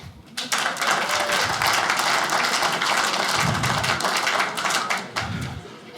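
Comedy club audience at a stand-up show bursting into loud, sustained applause with scattered cheers, a dense wash of clapping hands that swells and continues throughout.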